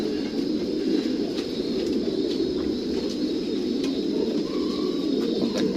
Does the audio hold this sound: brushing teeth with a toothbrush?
no